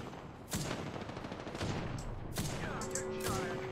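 Video game gunfire from a sniper rifle and other weapons, several sharp cracks over a dense battle din, with occasional ringing effects near the end.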